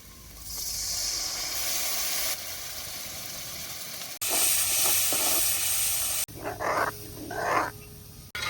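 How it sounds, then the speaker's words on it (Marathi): Tamarind water hits a hot pan of spicy village-style sambar and hisses loudly in several bursts, with short pauses and softer sizzling between them. "हे चिचायचं पाणी आहे."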